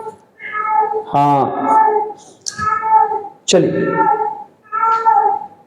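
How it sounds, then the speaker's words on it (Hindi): A cat meows nearby several times during a maths lesson, its cries mixed with and partly overlapping a man's ongoing speech. "बगल में एक बिल्ली मौसी जो है आवाज दे रही है"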